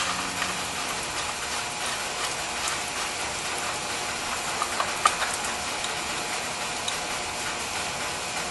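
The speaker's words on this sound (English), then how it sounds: "then you can bring a ratchet over, a 1/4" ratchet again" Quarter-inch ratchet clicking steadily while tightening 8mm coil bolts on a valve cover, a dense continuous pawl chatter, close and fairly loud, with no talking.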